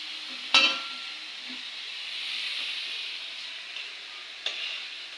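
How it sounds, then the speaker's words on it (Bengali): Drumstick flowers fry in a wok with a soft, continuous sizzle, broken by a sharp clack of the spatula early on and another faint knock near the end as they are stirred. "এইভাবে আমরা বেশ কিছুক্ষণ কড়াইতে সজনে ফুল ভেজে নেড়েচেড়ে নেব।"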